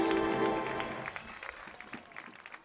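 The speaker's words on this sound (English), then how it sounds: "Nice round of applause." A crowd at a youth baseball welcome parade for a 10U state championship tournament claps, loud at first and then thinning into scattered, fading claps.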